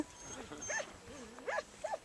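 Several old male dogs in a loose group on open ground make short vocal calls, with distinct whine-like rises at intervals over a low steady background.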